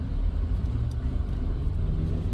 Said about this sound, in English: I'm going to turn this heat down because it's loud